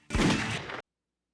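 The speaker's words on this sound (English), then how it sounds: "this game uses gunshot and gun-click sounds for the main menu" A single loud, broad gunshot blast serves as a menu sound effect in the Shadow the Hedgehog video game, lasting under a second before abruptly cutting to silence.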